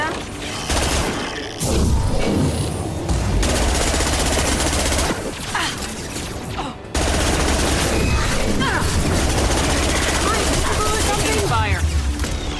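Gunfire in Mass Effect Legendary Edition on Insanity difficulty: bursts of rapid automatic shots and mechanical weapon clatter come in loud stretches separated by short gaps, with voices heard over the fighting.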